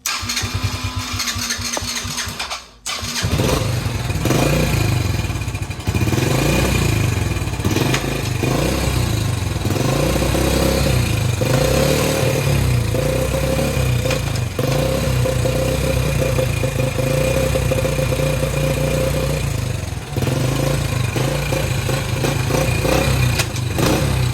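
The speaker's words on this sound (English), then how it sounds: "The idle is not the best on this quad, so gotta start it up again." A 2008 Yamaha Grizzly 80cc four-stroke quad with a poor idle cranks briefly, catches and then runs loudly and steadily close by, its small engine buzzing with slight rises in revs and no talking.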